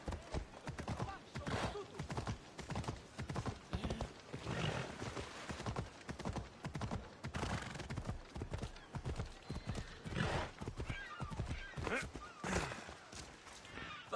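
Horse hooves clip-clop in Assassin's Creed Odyssey, a steady run of sharp, close hoofbeats at a walking pace that carry on for over ten seconds with no talk and fairly quiet overall level.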